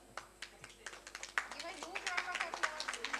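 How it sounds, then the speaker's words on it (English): Audience clapping at an annual conference in Patna as a newsletter is released by a chief guest, scattered claps building into fuller applause over a few seconds. "Please give a massive round of applause for the release."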